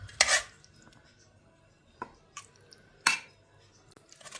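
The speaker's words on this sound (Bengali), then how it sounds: "এখন এই খিচুড়ি এই যে ব্লেন্ডারের মধ্যে আমি ঢালছি" Thick, set khichuri is poured and scraped from a pot into a blender jar, giving a few sharp clinks and soft knocks spaced apart, fairly quiet with no talking.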